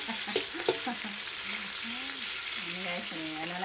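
Food frying and sizzling in a pan, a steady close hiss with a few stirring clanks near the start. A faint voice murmurs under it now and then.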